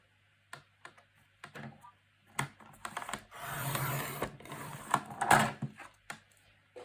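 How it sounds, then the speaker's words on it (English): A paper trimmer slices through two stacked pocket pages for a journal kit, giving a few light clicks and taps before a longer scraping cut with a sharp snip near the end, close and fairly quiet with no talk. "Now my trimmer does cut 2 at a time."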